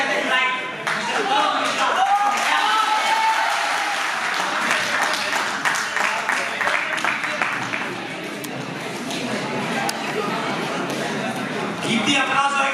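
Audience applause at a Delhi University graduate scholars' talk series winner announcement, steady dense clapping filling the room for most of the stretch with brief voices mixed in.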